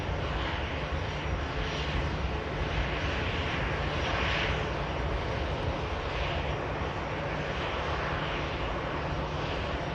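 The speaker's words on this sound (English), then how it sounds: "EasyJet just arrived in from Palmer." An easyJet airliner arriving at Manchester Airport makes a steady broadband engine roar, loud and continuous for the whole stretch with a slight swell midway, and no voices.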